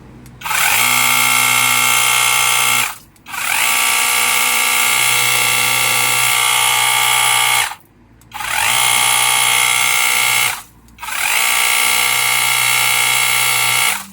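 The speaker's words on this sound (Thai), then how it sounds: "พอใส่เป็นมอเตอร์บัลเลตแล้วเสียงค่อนข้างดังเลยทีเดียว" A cordless pressure washer's small pump motor whines loudly in long bursts, stopping briefly three times between runs, with a steady mechanical drone.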